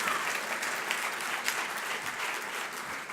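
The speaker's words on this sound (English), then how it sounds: "Give Frank a round of applause." Conference audience at a union gathering applauding for their president, a sustained, even burst of many hands clapping that stays steady for about three seconds.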